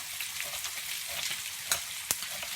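Pork chops sizzling and frying in a pan, a steady close hiss with a few sharp pops and crackles, no talk.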